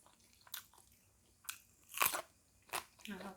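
Crunchy chewing of Korean spicy instant noodles with sausage, eaten with fresh vegetables and boiled egg: several soft, separate crunchy bites close to the mic, spaced about a second apart, with no talking.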